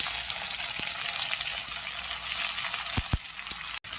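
Onion paste fries in a pan for an eggplant and fish curry, giving a bright, constant hiss of sizzling oil with a few sharp clicks near the end.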